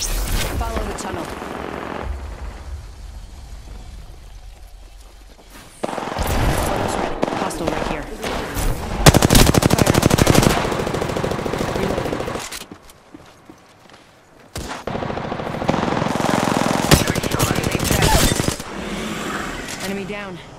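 Gunfire in the Apex Legends video game, Season 3, crackles in dense bursts and rapid volleys across a busy soundscape, with footsteps and game callouts mixed in and brief quieter lulls between exchanges.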